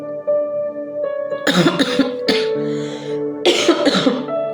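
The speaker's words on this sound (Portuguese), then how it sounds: "porque tô com uma tosse alérgica" Several harsh allergic coughs burst out close to the microphone over a sustained musical tone, in two clusters with a short pause between.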